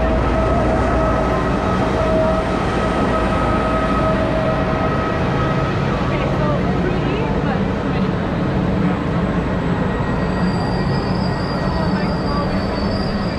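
Crowded regional train on the Cinque Terre line in Italy, a steady loud rumble of carriage and wheels running throughout with occasional faint squeals, busy and close.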